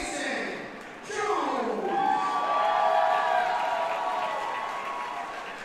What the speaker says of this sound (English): Mason Jones receiving a lot of applause